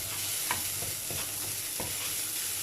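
Chicken being stirred in a hot pan with garlic and ginger over medium-low flame: a steady sizzle with several scraping spoon strokes, close and fairly quiet, no talking.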